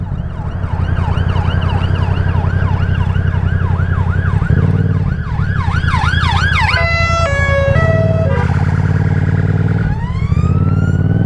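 A police car siren wails loud and close while passing, cycling through rising-and-falling sweeps and then shifting to faster yelp and stepped tones, with steady engine rumble beneath, heard from a 125cc motorbike on the road.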